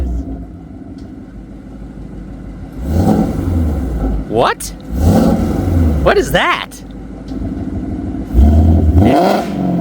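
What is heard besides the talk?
sports car engine revving with headers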